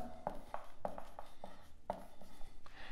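Writing a sentence by hand during an English grammar lesson, heard as short scratchy strokes in uneven bursts, close and fairly quiet, with no talking.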